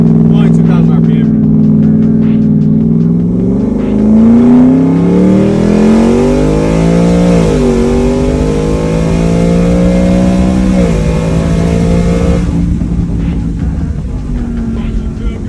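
Twin-turbo 2021 Ford F-150 pickup pulling hard in second gear, the engine note climbing steadily with a shift-like dip partway through, loud and close from inside the cab over a constant road rumble, with occasional talk.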